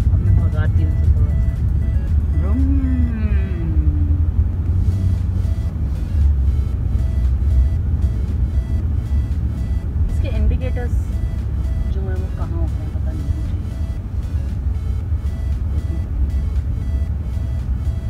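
An automatic Audi A6 car engine revs and pulls away, a steady low rumble running throughout at close range, with someone talking over it.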